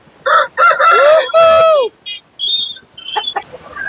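A rooster crows loudly and close by at the Kunnathur livestock market, a drawn-out cock-a-doodle-doo followed by shorter calls and clucks from other birds.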